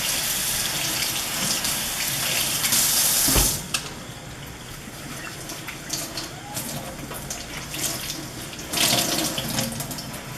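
Water running from a tap onto a thick Norwex mop pad to wet it, a steady close splashing flow with a couple of louder gushes.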